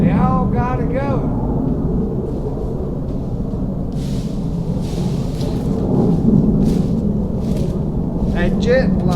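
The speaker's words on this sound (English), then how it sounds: "That jet flying over" A jet aircraft passes overhead at an off-grid homestead workshop building site, a loud, deep, continuous rumbling roar, with short bits of a voice at the start and end.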